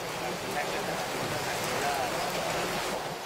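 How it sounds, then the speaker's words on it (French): Rain falls steadily on a remote airstrip in Colombia beside a parked DC-3, making an even, hissing patter with no breaks, moderately loud and fairly close. "la couverture nuageuse et la pluie empêchent aujourd'hui l'avion de repartir"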